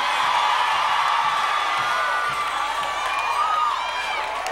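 Congregation at a women's church conference screaming and cheering, a dense, loud, sustained crowd roar with high whoops and shouts rising over it, filling the whole stretch.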